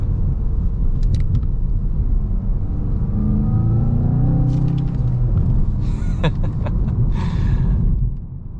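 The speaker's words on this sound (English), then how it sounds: "it's definitely a hoot to drive this car" A 2023 Volkswagen Golf GTI with a manual gearbox drives on a road with salt and sand, its engine giving a steady, loud low rumble throughout, with brief clicks and rattles near the end.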